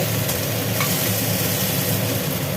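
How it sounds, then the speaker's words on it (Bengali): Potato, onion and okra frying in a pan, a steady close sizzle with constant crackle throughout and no talking over it. "মোটামুটি আলু পেঁয়াজ ভেন্ডি একটু ভাজি হয়ে গেল"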